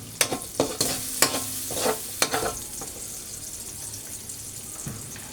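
Onion going into hot oil with garlic for a fish curry, sizzling and frying with a few sharp spoon scrapes and stirring clatters near the start, settling into a softer steady sizzle.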